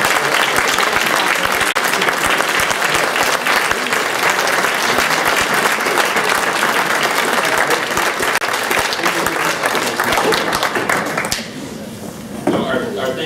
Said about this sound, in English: if we could all give a round of applause to those groups